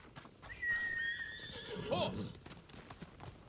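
In the video game Ghost of Tsushima, a horse gives a shrill, falling whinny while hooves clip-clop softly nearby, all fairly faint.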